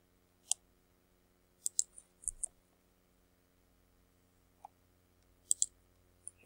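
Computer mouse clicking while using EndNote software, a scattering of small, crisp clicks, some single and some in quick doubles, against a quiet background hum.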